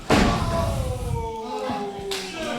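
A heavy thud from a wrestling spear tackle at a live show lands right at the start, followed by a sustained wash of noise as it fades away.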